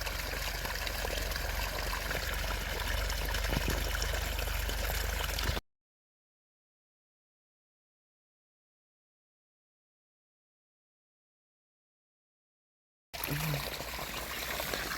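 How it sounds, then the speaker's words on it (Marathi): Irrigation water gushes steadily from pipeline taps into a sugarcane field, a constant rushing flow that drops out to silence for several seconds before resuming. "अशा प्रकारे आपण 5-5 जे कॉक आहेत त्यांनी पाणी देतो ऊसाला"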